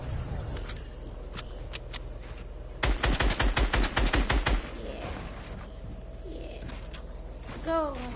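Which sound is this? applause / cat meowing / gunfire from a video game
gunfire from a video game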